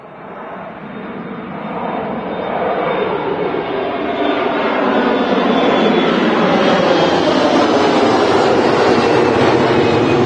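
A Jet2 Airbus A321 airliner passes at Manchester Airport with a loud, broad engine roar that swells over several seconds and then holds strong and steady.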